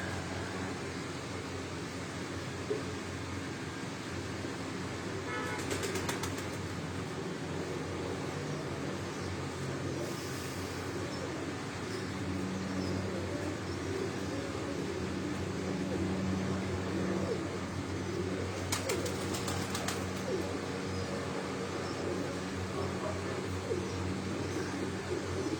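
Pigeons on a rooftop in Chak Beli Road, Rawat, coo softly over a steady background hum, broken by a few short bursts that could be wing flaps.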